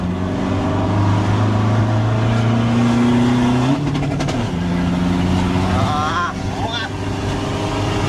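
A modified car engine with an aftermarket exhaust revs hard and accelerates, its loud droning note climbing in pitch, dipping with a gear change and climbing again, up close. Voices talk over it near the end.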